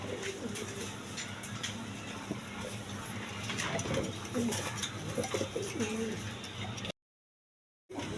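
Danish pigeons coo softly and repeatedly against a low background hum, a faint voice briefly underneath, then a short silent gap near the end.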